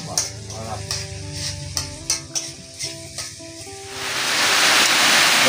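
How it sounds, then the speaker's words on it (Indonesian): Spice paste sautéing in a pan, a steady sizzle with scraping stir strokes and clinks of a utensil against the pan, the frying swelling louder and hissier toward the end. "kita tumis bumbunya juga"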